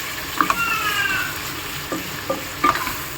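Onions frying in oil in a home kitchen, with a soft steady sizzle and a few sharp clicks and scrapes of a spoon stirring the pan.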